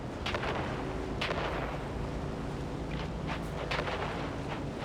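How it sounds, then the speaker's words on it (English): Grenade blasts in the video game Dune: Awakening, a few dull booming bursts over a constant loud rumbling bed of battle noise, with no speech. "We grenade and move. 3, 2, grenades out!"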